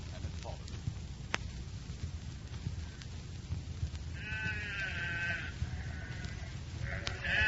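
A few soft, wavering sheep bleats come in partway through, over a low steady rumble and quiet background noise.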